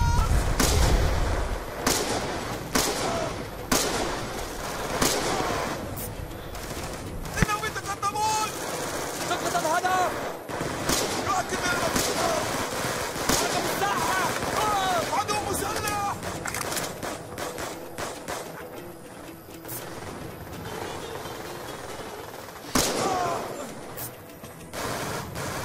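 Video game gunfire, repeated sharp shots in irregular bursts, loud and close, with people talking over much of the action.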